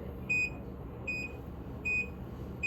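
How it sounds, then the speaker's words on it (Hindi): An automatic hair curler gives four short, high, evenly spaced electronic beeps, each clear and distinct over a soft steady hiss. "ये बीप साउंड आया, आपको अपनी फिंगर हटा देनी है"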